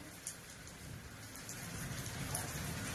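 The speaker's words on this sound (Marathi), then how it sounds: "मस्त पाऊस लागलाय पडायला" Steady rain falls as a constant broadband hiss, dense and even throughout, with faint drips landing nearby.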